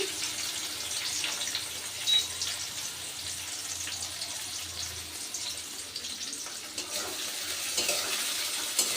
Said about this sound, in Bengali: পেঁয়াজ আর রসুনটাকে আমি খুব ভালো করে ভেজে নেব।